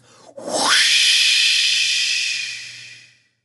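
A voice imitates a steam engine letting off steam: a short breath leads into one long, loud, steady hiss that holds for about two and a half seconds before trailing away.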